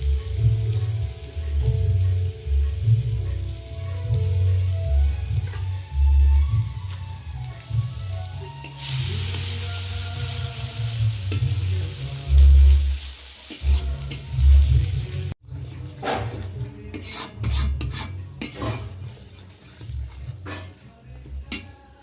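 Sugar, whole cumin, cardamom, cinnamon and peppercorns sizzle and fry in hot oil, a steady loud crackle with stirring scrapes, the sizzle flaring brighter midway and turning sharper and spattery near the end.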